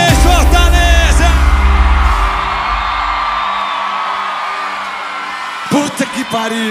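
A large concert crowd in Fortaleza yells and cheers loudly for about two seconds, then the noise settles into a sustained roar under music, with a few more shouts near the end.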